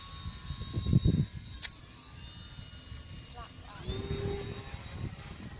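A model airplane makes a low flyby with full flaps. Its thin engine whine drones faintly in the background and bends in pitch as it passes, and a breezy rumble and some handling noise sit close by.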